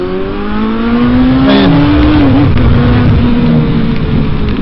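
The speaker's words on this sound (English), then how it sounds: "And the Range Rover takes off." A Range Rover pulls away and accelerates hard, its engine note climbing loudly and steadily close by, with a brief tire chirp amid continuous engine roar and road noise.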